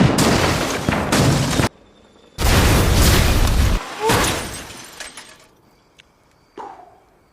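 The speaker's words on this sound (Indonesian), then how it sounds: "para prajurit langsung melepaskan tembakan bertubi-tubi serta meluncurkan mortir" Film battle scene with a gunfire barrage and mortar explosions, loud crashing blasts in two long bursts separated by a brief lull, followed by scattered fainter pops and a final smaller impact.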